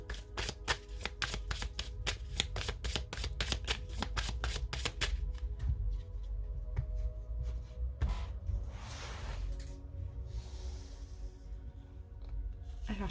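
Tarot cards are shuffled close up in a fast, crisp ripple of regular flicks for several seconds, then quieter handling and sliding of the deck.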